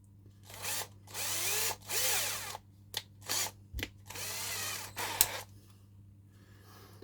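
A power drill with a 2.5mm bit whirs in several short bursts of varying length, separated by brief pauses and a few sharp knocks, close by with a steady low hum underneath.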